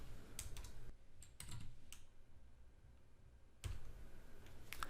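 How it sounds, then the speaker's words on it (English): Computer keyboard typing at a Unix command line: bursts of quick key clicks, close and clear, with short pauses between runs of keystrokes. "So I am typing ls-l and the name of our script."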